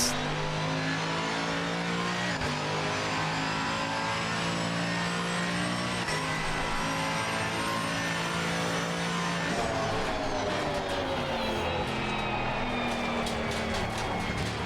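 A sim racing car's engine revs steadily as it accelerates out of a corner, one long rising whine that drops briefly at each gear change and runs loud and continuous throughout.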